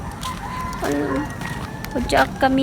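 A chicken clucks and squawks in short bursts close by while people talk over it.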